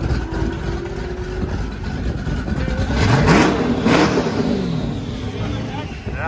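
A twin-turbo LS-swapped manual Lamborghini Huracan running on E85 idles roughly, then revs up and settles back, a loud, close engine drone with voices talking over it.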